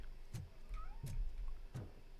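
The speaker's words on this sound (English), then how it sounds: "That cat sounds like it's literally right next to me all the time." Three short cat meows spaced about a second apart, fairly quiet and close, over a low steady hum, in the video game RoboCop: Rogue City.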